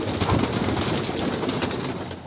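A rush of flapping wings and cooing as several pigeons stir and take off from their coop close by, a brief busy flurry.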